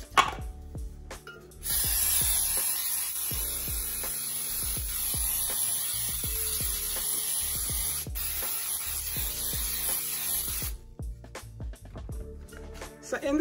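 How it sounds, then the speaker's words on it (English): A continuous hiss of an aerosol baking spray can coating a cake pan for several seconds, close and fairly loud, with faint clicks and bumps around it. "We're going to start by generously spraying the pan with pan baking spray."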